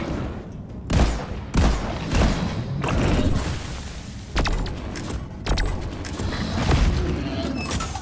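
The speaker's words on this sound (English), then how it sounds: "This gun is so strong. I love it." Heavy gunfire from a powerful gun in the video game Deep Rock Galactic, repeated booming bursts and rapid rattling volleys, loud and close, with dense mechanical clatter between shots.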